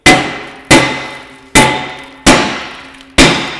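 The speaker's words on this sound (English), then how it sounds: "So I've got a space-age tool called a hammer" A hammer lightly taps the brake drum of a 2015 Subaru Outback five times at a steady pace. Each strike is a loud, near metallic clang with a short ringing decay, heard alone.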